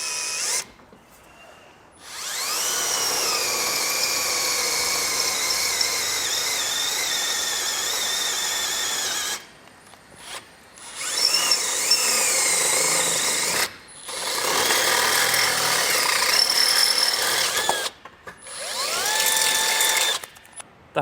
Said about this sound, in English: So I'll take my bit and get all these holes drilled out.